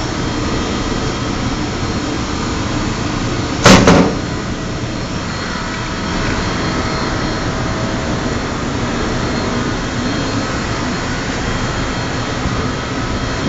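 An EKRA X4 screen printer running in semi-automatic demo mode gives a steady, even mechanical whir throughout, with one brief sharp clunk early on and no talking.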